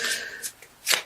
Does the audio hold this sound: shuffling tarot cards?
yes